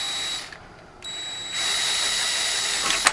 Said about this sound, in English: you drill out the roll pin with a 9/64 inch diameter bit